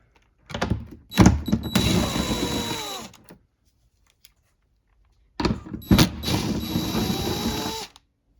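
Power tool or ratchet spinning off 10mm nuts from the inner taillight assembly of a 2021-2026 Toyota Sienna, in two loud bursts of whirring, clicking work of about two and a half seconds each, separated by a quiet pause.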